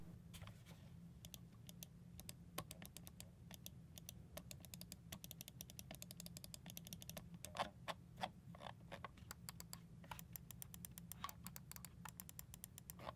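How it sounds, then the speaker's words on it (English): Button clicks from a Razer DeathAdder Elite mouse sound as quick, crisp, close ticks in irregular runs, some fast and clustered, over a faint steady background hum. "Here's how those clicks sound like."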